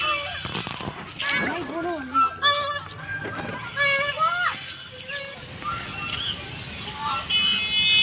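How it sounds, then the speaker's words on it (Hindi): Ducks on a pond give several nasal quacks and honks among scattered outdoor noise, while people talk and children play nearby. "कालिंदी पर बहुत सारी बतखें हैं।"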